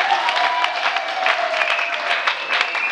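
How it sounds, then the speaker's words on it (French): A wedding congregation in Pointe-Noire claps and cheers for the Lord, dense steady applause from a crowd filling the whole stretch, with voices mixed in. "Au moins, si tu crois à cela, acclame encore le Seigneur."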